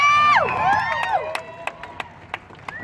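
A crowd cheers and shouts with bright whooping voices, including children, with scattered claps and sharp hand hits punctuating the noisy roar over a few seconds.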